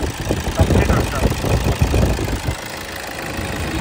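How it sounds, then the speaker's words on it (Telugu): A 2015 Toyota Innova 2.5 diesel engine with about 124,000 km idles nearby, giving a steady low rumble with a slightly knocking texture. It stays fairly loud and even throughout, and a person talks over it. "ఇంజన్ మాత్రం కొత్తగా మెడుస్తుంది"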